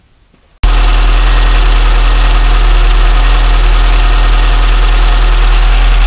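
Car fitted with a Peugeot TU engine, just after a new rocker cover gasket, catches and settles into a loud, steady idle after a brief quiet start.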